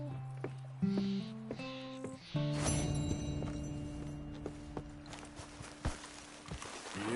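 Horse hooves clip-clop at a walking pace in the Red Dead Redemption 2 video game, a soft steady run of hoofbeats under game music and ambient sound, fairly quiet.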